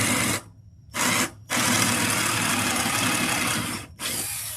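Power drill boring into a scrap 2x4 held in a drill block, three loud close bursts of whining motor and chewing wood, the longest running steadily for over two seconds between short pauses.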